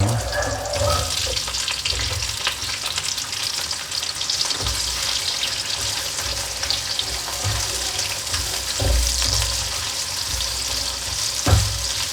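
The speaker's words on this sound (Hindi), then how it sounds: "कुकिंग ऑयल में हम डालेंगे प्याज हमने फ्राई करना है" Sliced onions frying in cooking oil in a kadai give a dense, steady, close sizzle that runs the whole time, with occasional knocks and scrapes of a stirring spoon and no speech.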